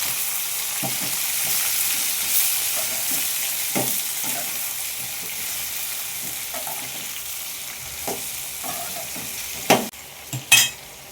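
Onions frying in oil hiss and sizzle steadily, close and loud, as eggplant is added and stir-fried, with regular scraping strokes of a spatula and a couple of sharper knocks near the end.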